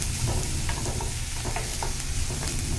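Green chillies fry and get stirred in a hot pan over browned aromatics for a South Indian black urad dal, a loud, continuous crackling sizzle with scraping stir strokes and no talk.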